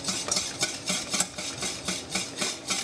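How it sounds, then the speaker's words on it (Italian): A spoon stirs a fat-free béchamel sauce in a pan, making quick rhythmic scraping strokes at an even pace, close and moderately loud with no talking. "poi la tirate via dal fuoco e andate avanti a girare per ancora 30 secondi"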